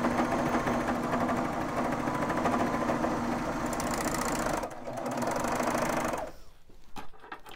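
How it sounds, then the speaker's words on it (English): A Baby Lock Vibrant serger runs steadily as it stitches across the short edge of a fabric cuff, a close, continuous whirring hum that stops abruptly near the end, followed by a few faint handling clicks. "And I'll just stitch across this shorter edge."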